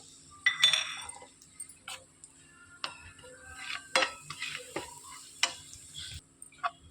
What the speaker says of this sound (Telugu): తీసి పెట్టుకున్న కొబ్బరిని వేసేసుకొని వేయించుకోవాలి స్లో ఫ్లేమ్లో